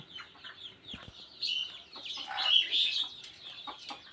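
Chickens in a hot farm enclosure, clucking and squawking in bursts over a steady chirping background, moderately near with no talking.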